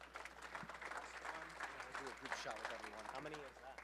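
A small group clapping during a mastermind meeting recording, quiet scattered applause heard under people talking and murmuring nearby.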